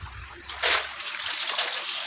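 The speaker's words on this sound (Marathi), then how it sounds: "आता मी ती दोन पाण्यामध्ये धुवून घेणार आहे" Water splashes and sloshes as wild monsoon leafy greens are swished around in a basin, close by and fairly quiet, with no talking.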